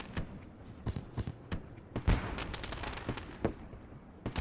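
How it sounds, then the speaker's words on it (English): Fireworks bursting over a Knoxville, Tennessee sprint car race track, a run of sharp cracks and pops at irregular intervals, some heavier booms, heard from a distance and fairly faint. "As the fireworks burst themselves off here at Knoxville, Tennessee."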